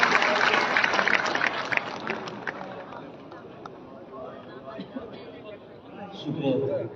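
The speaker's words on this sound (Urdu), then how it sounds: "نام میں نے لیا, تالیوں سے استقبال" Applause welcoming poet Mushtaq Afzal at a live stadium poetry gathering, dense clapping at first that thins out, with crowd murmur and voices underneath.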